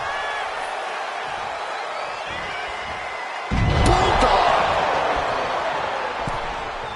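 A wrestling arena crowd in the video game WWE 2K25 cheers throughout, surging into a louder roar midway after a heavy slam-like impact, then holding at a steady level.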